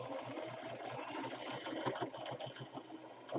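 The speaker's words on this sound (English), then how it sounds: "violently attack it with the sewing machine." A sewing machine runs in rapid bursts, its mechanical stitching rattle steady and close, with a low motor hum underneath and no voices.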